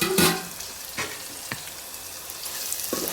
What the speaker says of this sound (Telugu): అల్లం వెల్లుల్లి పేస్ట్ ఇలా వేగిపోయింది చూడండి.